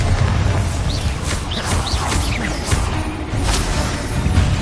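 Bombarda spell explosion in the video game Hogwarts Legacy: dense, loud booming blasts with crashing debris and whooshes, running continuously through a chaotic combat sequence.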